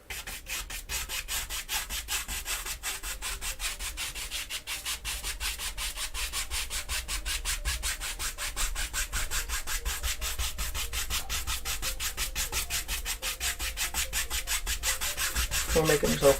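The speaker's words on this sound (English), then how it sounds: "We're making little crisscross strokes." A paintbrush scrubs small crisscross strokes onto canvas in a wet-on-wet landscape painting, a close, fast, rhythmic rubbing texture that continues steadily throughout.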